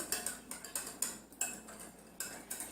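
A spoon clinks and scrapes steadily against a bowl while milk is stirred into custard apple cream, giving a quick, uneven rhythm of sharp, close metallic taps with no voices.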